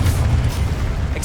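A Confringo spell explosion in the Hogwarts Legacy video game, heard as a dense, sustained low boom and rumble that stays loud throughout, with crackling hiss above and no voices.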